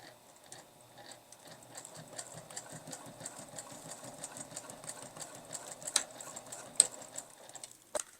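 Sewing machine fitted with a Teflon foot running a seam along clear vinyl, a steady quiet mechanical whir with fine ticking stitches, plus a couple of sharper clicks near the end.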